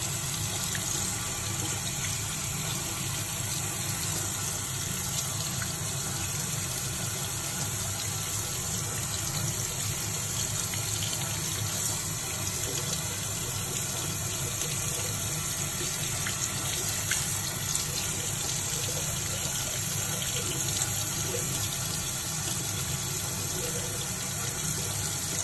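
Tap water runs steadily over two small pet turtles being showered, a continuous close hiss and splash with no pauses.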